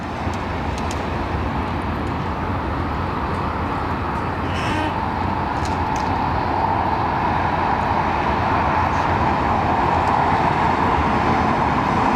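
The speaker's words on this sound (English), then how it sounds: "this looks like a 350 on approach. This is Asiana, is it?" Asiana Airbus A350 airliner on approach to London Heathrow, a steady loud jet roar with a broad whine that grows slightly stronger over time, with brief clicks and faint background traffic.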